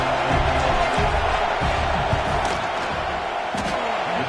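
Loud, steady roar of a college football stadium crowd as the field goal unit lines up for a kick, a dense continuous wash of noise with scattered shouts and thuds rising through it.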